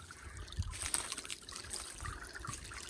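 Water trickles and drips from a newly installed garden water feature in a yard, a soft continuous splashing with a few sharper drops, fairly close and quiet.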